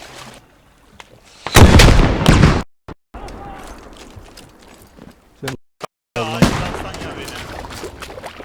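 A loud, sudden explosion in the tactical shooter game Squad, as a vehicle appears to blow up. A heavy, roaring burst lasting about a second is followed by scattered thuds and debris noise, with voices talking over the action.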